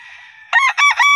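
A gamefarm rooster crows loudly and close by in its conditioning area, a drawn-out call broken into several rising and falling segments, with a fainter bird sound just before it.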